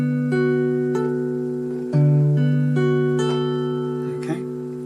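Guitar chord from Sting's Shape Of My Heart, four fingered strings sounded together and left ringing, then restruck once partway through; clear, close and sustained, with no talking.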